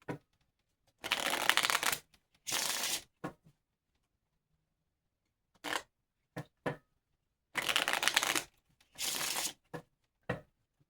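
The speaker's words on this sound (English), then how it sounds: "we're gonna dive in to our regular deck of cards, playing cards" A deck of ordinary playing cards shuffled close by, several crisp riffling bursts of about a second each separated by silences and small taps, with no speech.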